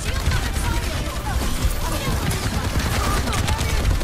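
Rapid, dense gunfire from the video game Overwatch crackles continuously in bursts, with voices talking over the shooting.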